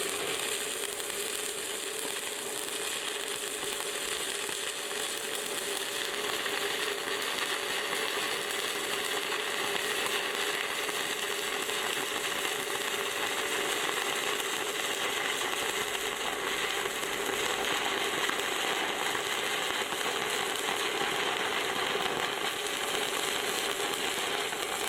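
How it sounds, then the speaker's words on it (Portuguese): Stick electrode arc welding lays a bead across thick steel plate, producing a continuous close crackling sizzle with a steady buzzing hiss that holds unbroken for the full stretch. "Vou começar a solda."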